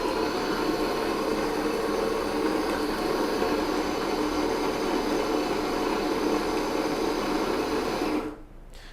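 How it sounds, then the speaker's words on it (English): A quiet coffee grinder grinding gourmet coffee beans, a steady whirring hiss for about eight seconds that then cuts off abruptly. "Let's go ahead and grind some coffee."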